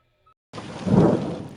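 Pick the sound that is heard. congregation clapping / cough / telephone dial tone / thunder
thunder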